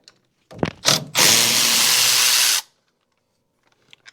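A power tool spins out the 3/8 bolts holding the oil filter cover on a Hydro Gear transaxle, a brief buzzing whir after a couple of clicks, close and fairly loud, then stopping.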